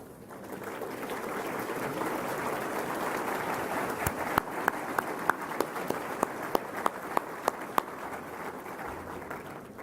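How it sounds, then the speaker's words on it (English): Crowd at a North Carolina governor's economy speech applauding elected officials, a sustained, even roar of many hands filling the room, with a run of sharper individual claps standing out near the middle before it carries on. "give them a big round of applause"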